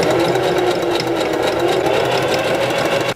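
Sewing machine stitching bias binding onto fabric, a loud, close, continuous rapid mechanical whir that runs steadily and stops abruptly at the end.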